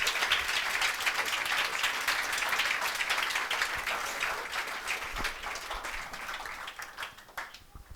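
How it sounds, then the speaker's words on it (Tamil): A church congregation at a gospel meeting claps steadily to welcome a guest speaker, a dense, sustained wash of many hands that holds for several seconds before thinning and tapering toward the end. "हम सभी ताली बजाकर उनका स्वागत करेंगे क्या?"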